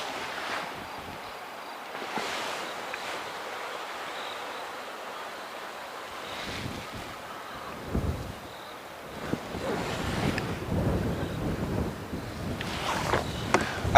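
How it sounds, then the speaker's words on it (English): Wind gusting outdoors on a cool safari morning, a rushing roar with buffeting against the microphone that swells and eases, strongest in the latter half. "with the wind it makes it feel a bit chillier"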